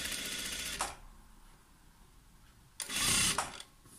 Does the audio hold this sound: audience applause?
no